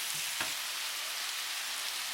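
Soy sauce hits spare ribs in a hot pan, setting off a steady, bright sizzle that stays loud and even throughout, with a brief faint splash of pouring at the start.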